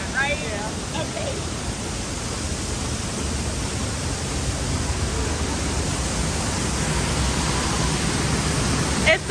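A waterfall roars as a dense, steady rush of water close by, growing slightly louder, with brief voices near the start.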